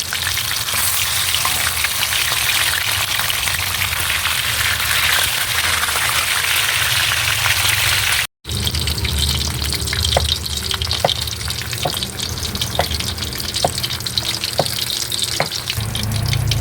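Dalagang bukid fish fry in hot oil, a loud, dense, continuous crackling sizzle that breaks off briefly and resumes with sharper pops and spatters.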